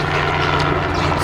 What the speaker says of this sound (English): Stupid helicopter.